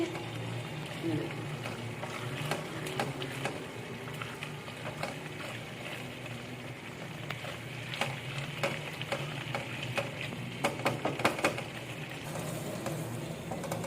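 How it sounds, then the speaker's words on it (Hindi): Chicken masala dalia stir-fried in oil in a pan until the oil rises, a steady close sizzle with scraping and clattering stir strokes throughout, a few sharper clinks near the end, and a voice faintly underneath. "थोड़ा भूनना है इसको, बस ऑयल ऊपर आ जाए।"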